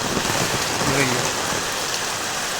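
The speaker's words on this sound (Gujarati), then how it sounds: "કેમ કે વરસાદનો અવાજ આવતો હોય છે" Heavy downpour on a farm, a dense steady hiss of rain drumming on surfaces with a brief low voice murmuring underneath.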